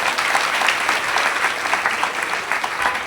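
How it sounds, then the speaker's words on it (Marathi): An audience at a religious sermon gathering claps steadily in loud, sustained applause that stays even from start to finish. "त्याच्याकरता एकदा टाळ्या वाजवायला."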